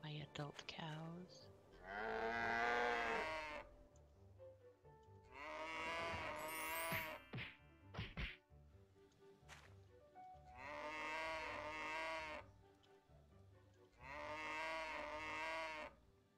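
Cattle in a farming video game moo in four long, loud calls spread evenly over about sixteen seconds, with brief clicks and small interface sounds between the calls.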